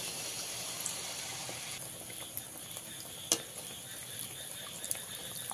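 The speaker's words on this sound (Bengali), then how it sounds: "তেলের মধ্যে আবারও 1 হাতা ব্যাটার দিয়ে দিচ্ছি।" Rice-flour batter for arisha pitha sizzles quietly in hot oil, a soft continuous crackle with a few sharp pops and clicks.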